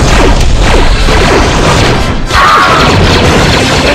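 A grenade detonates in the Star Wars: Republic Commando game, a loud, dense, roaring blast that fills the whole stretch with crashing, rumbling debris and a brief dip before a second surge.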